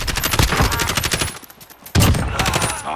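Rapid automatic gunfire from a Call of Duty: Modern Warfare match, dense bursts that dip briefly before a loud burst resumes, sounding close.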